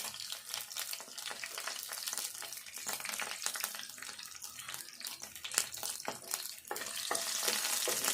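Chicken with garlic and masala sizzles and fries steadily in a pan, a dense continuous crackle with occasional stirring scrapes, close and fairly loud throughout with no talking.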